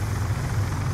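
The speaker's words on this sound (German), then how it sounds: "Escort-Drohne unterwegs." Escort drone flying in the video game Call of Duty Black Ops 2, a steady low rotor-like hum with a constant whir, loud and continuous through a brief moment, no talk.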